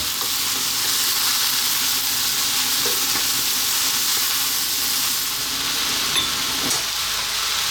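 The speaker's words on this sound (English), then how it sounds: "We're going to get those in, mix them around for another 3 or 4 minutes again." Pre-cooked noodles and vegetables sizzle steadily in a hot pan for Singapore-style spicy noodles, with a constant loud frying hiss and faint scraping of spoons as the mix is tossed.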